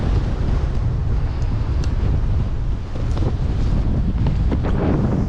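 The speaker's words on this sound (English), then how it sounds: "that north wind has picked up" Strong north wind roars steadily against the microphone on a Cumberland Island beach, a constant low buffeting with faint surf-like hiss behind it.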